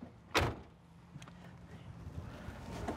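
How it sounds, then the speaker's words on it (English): A door of a Winnebago Travato 59K camper van is shut once with a single close thump near the start, followed by quiet handling and low background noise. "Now to do so, I'm gonna have to obviously shut the doors"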